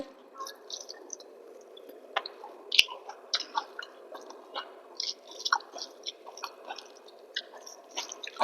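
Close, wet chewing and soft squishing of egg and potato curry with rice, irregular mouthfuls with smacks and small clicks in a quiet room.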